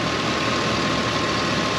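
The engine of a 2006 Chevrolet Silverado with 400,000 miles idles in a garage, a steady, even broadband hum with a faint constant tone, alone and with no talk over it.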